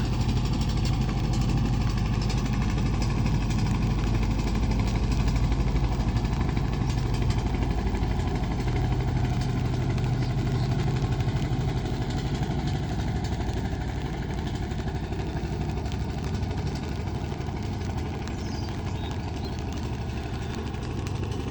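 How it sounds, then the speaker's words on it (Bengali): Small motorboat running fast on a rain-swollen river, its engine a continuous loud drone with steady vibration that holds throughout, close by, with no talking. "দেখেন কীরকম স্পিডে যাইতেছে, একদম ছোট নৌকা"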